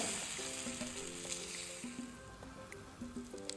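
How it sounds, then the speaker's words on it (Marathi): Green pea instant dosa batter (mataar amboli) sizzles on a well-heated tawa, a steady hissing fry with soft scraping as the batter is spread in a round; faint tonal hum runs underneath. "तवा चांगला तापलेला आहे तर पण असं गोल पसरायचं आहे आणि छान जाळी पडते बघा"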